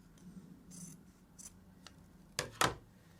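Scissors trim fabric scraps while sewing scrunchies, with a few faint snips early on and then two crisp, close cuts near the end in an otherwise quiet room.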